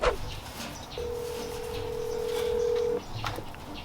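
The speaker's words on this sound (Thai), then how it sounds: "เดี๋ยวเราจะลอง โทรหาพี่เติ้ลกันสัหน่อยในกันครับ" A telephone being dialed to place a call: a quick burst of keypad tones, then one long steady tone lasting about two seconds, followed by a few faint clicks, close and clear, with no talking.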